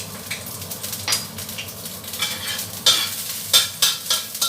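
Garlic and ginger sizzle in a little hot oil in a pan for a home-style shredded zucchini and pork dish, with steady frying hiss and several louder stirring scrapes close by.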